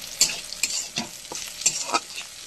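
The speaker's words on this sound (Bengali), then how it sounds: "দেখুন উচ্ছে ভাজা লাল করে ভেজে নিয়েছি" Bitter gourd slices frying in a pan, a steady oil sizzle broken by repeated scraping stirs at an uneven pace, close and moderately loud with no voices.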